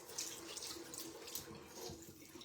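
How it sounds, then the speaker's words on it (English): Water runs from a tap to wet a makeup sponge, a soft, steady splashing hiss close by and fairly quiet, with small shifts as the sponge moves under the stream. "so I'm just getting my sponge wet."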